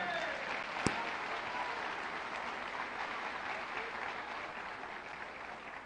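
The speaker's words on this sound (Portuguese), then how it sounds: "Aplaude al Señor" A church congregation at a Spanish- and Portuguese-language worship conference applauds the Lord, a soft, distant, continuous patter of many hands filling a large room, with one sharp knock early on.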